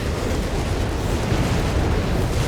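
Battle din in Company of Heroes 3, Whizzbang rocket artillery pounding Italian infantry, a loud, dense, continuous roar of overlapping blasts and rumble with no distinct gaps between hits.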